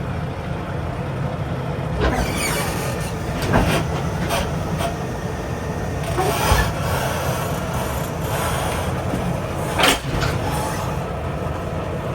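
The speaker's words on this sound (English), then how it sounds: "you're going to hear the locking jaws lock around the kingpin. It's going to make like a clink, clink." A semi truck's fifth wheel locking jaws clink shut around a trailer kingpin as the tractor backs under the trailer; several sharp metallic clunks and knocks stand out over a steady, loud diesel engine rumble, with no talking.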